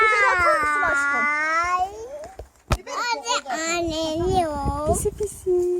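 A cat meows in long drawn-out cries close by in a home kitchen, alongside a voice and babble.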